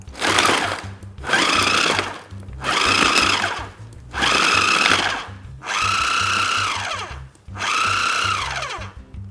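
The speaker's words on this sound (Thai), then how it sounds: "เราจะปั่นแบบกดหยุดนะครับ" Fruit for a summer sorbet is pulse-blended in a blender: six loud bursts of motor roar, each lasting a second or more, separated by brief pauses, close up with no talking.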